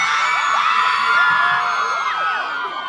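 Women in a college concert crowd scream and cheer at a dancehall show, many high shrill voices rising and falling together in a sustained, moderately loud wave of noise.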